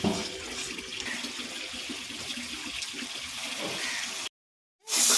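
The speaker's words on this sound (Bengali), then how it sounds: "একটু জল দেব অল্প করে" A little water poured into a pan of spices for a Katla fish curry with winter vegetables gives a steady, rushing, splashing wash for several seconds. It cuts off abruptly to silence, then a brief loud burst returns.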